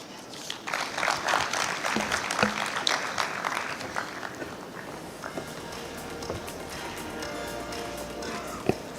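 Audience at a microfinance conference in Pakistan applauding a speaker: dense clapping swells early, then thins into scattered claps over a low room murmur before trailing off.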